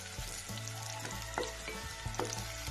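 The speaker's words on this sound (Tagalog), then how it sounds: "Pag nagigisa po ako ng ulam na may luya, luya po lagi yung inuuna ko." Ginger sautéing in a hot pan as the first step of salmon head sinigang, a steady close frying sizzle with a few brief stirring clinks throughout, no talk.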